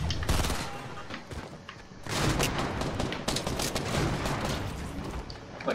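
Rapid gunfire in Fortnite Battle Royale: dense, overlapping bursts of shots crackle almost continuously at close range, easing briefly near the two-second mark before resuming just as heavily.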